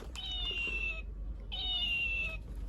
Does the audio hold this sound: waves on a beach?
no